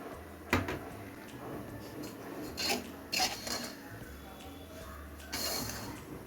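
A spoon scraping and clanking against a pot while red vermicelli is stirred with ghee and sugar, in a few intermittent scrapes and knocks over a steady hiss of cooking.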